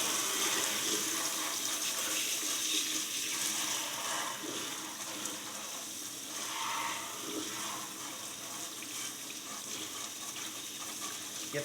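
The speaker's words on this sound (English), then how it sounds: "We're going to water jet blast it with this." A water jet blasts a small front pony horseshoe to soak off dirt, producing a continuous rushing, hissing spray that stays steady and fairly close with no talking.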